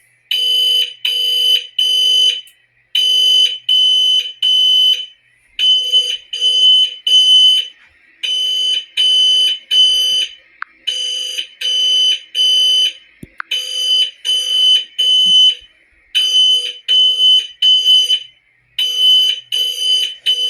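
A SimpliSafe Gen 1 home security alarm sounds: a loud, shrill electronic beep in repeating groups of three with short pauses between, continuing steadily throughout with no voices.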